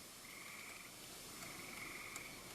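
Frog croaking outdoors at night, a faint, distant, drawn-out trilling call heard twice over steady background hiss, with no talking.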